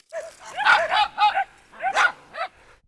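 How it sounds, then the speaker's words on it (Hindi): Dogs at a large swimming pool bark and yip in two quick bursts of sharp, close, loud barks with short gaps between them. "भाई मुझे समझ नहीं आता कुत्ते पूल से निकलने वालों पे क्यों झपटते हैं।"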